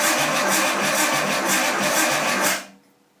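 Nissan RB20DET engine in a 240SX S13 cranking on the starter during a first start attempt, a loud, steady rhythmic churning with regular compression pulses that stops abruptly near the end, leaving quiet.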